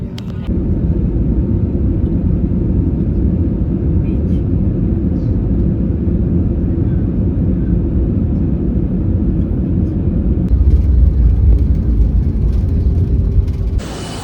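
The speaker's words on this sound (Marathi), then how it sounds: "इंजिन स्टार्ट होते आता गाडीचा" An airplane engine starts up before a flight to Hanoi, heard from inside the cabin as a loud, continuous low rumble that swells slightly near the end.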